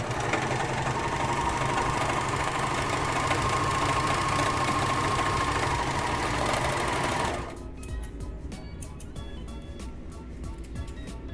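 Sewing machine stitching a flat-felled seam through two fabric layers at once: a fast, continuous mechanical whir that runs steadily for about seven seconds, then cuts off to quiet handling noises.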